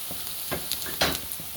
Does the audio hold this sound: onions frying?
yes